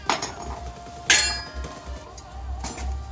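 Hammer striking metal to split the KA24 transmission from the engine on a Nissan 240SX, held together on pins: a few sharp metallic clinks and one louder clank, close and brief, no talk.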